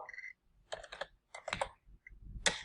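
Keys on a computer keyboard are typed in short quick bursts separated by brief pauses, close and crisp with no talking.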